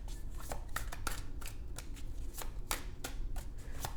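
Tarot cards shuffled and drawn from a deck, a steady run of crisp riffling and snapping card flicks close up, with no voices.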